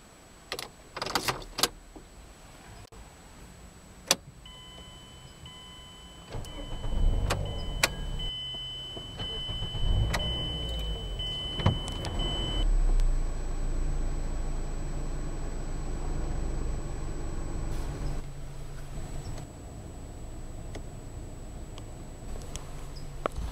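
A 2012 Mazda 5 with a key turned in the ignition: a few clicks and jingles, then the engine cranks and catches, settling into a steady, fairly quiet idle that runs on close by.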